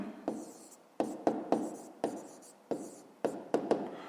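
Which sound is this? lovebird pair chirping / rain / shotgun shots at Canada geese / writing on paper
writing on paper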